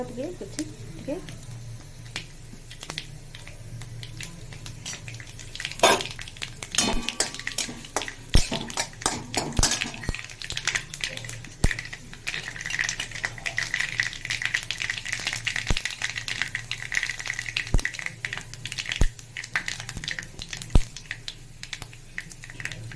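Tempering spices crackling and popping in hot oil while dalma is being cooked, with sharp irregular pops over a steady sizzle and a voice talking over it.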